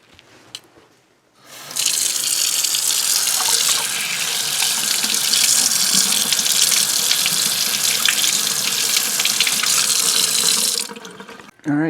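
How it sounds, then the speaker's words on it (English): Tap water pours into a sink for about nine seconds, a loud, steady rush while tumbled garnet is rinsed of foam, starting and stopping abruptly; no talking. "Foamy mess. Huh, gonna have to rinse it."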